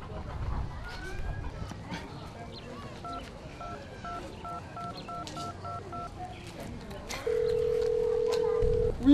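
A telephone being dialed to call someone, a quick run of touch-tone beeps followed by a steady ringback tone, with faint background voices and ambience.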